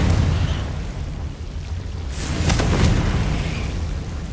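A Confringo fire spell from Hogwarts Legacy blasts with a loud, booming burst midway, a cluster of sharp cracks over a steady rumbling game background.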